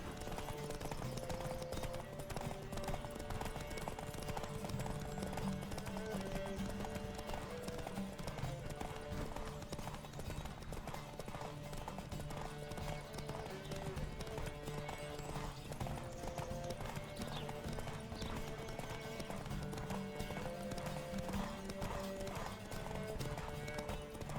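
Rapid, steady clip-clop of horse hooves at a gallop, loud and continuous, with an occasional whinny and faint voices in the background.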